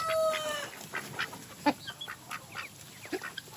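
Ducks quack and chatter at close range in a rural yard, a cluster of short nasal calls spread across a few seconds over a faint constant background hum.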